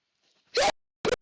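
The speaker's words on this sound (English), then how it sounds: "I got to sneeze" A sharp, close sneeze bursts out after a faint breathy intake, followed a moment later by a second short burst.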